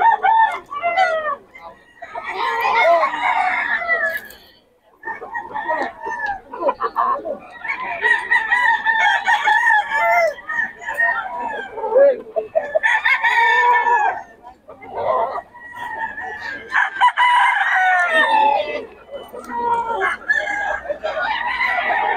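Several roosters crow repeatedly at close range among gamefowl brought for sale, long loud calls following one another with short gaps, along with some clucking.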